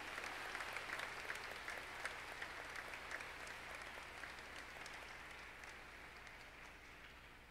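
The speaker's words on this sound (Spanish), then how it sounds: "Y démosle un fuerte aplauso a nuestra Santísima Trinidad." Congregation applause during a Corpus Christi Catholic Mass in a Miami church, a broad, sustained wash of many hands clapping that holds steady and slowly tapers, heard from a distance in a reverberant space.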